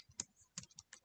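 Soft, close keystrokes on a computer keyboard while entering a website address into a design program: a few separate clicks spaced irregularly over a second, quiet and with no voices.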